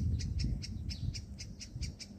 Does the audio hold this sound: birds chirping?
yes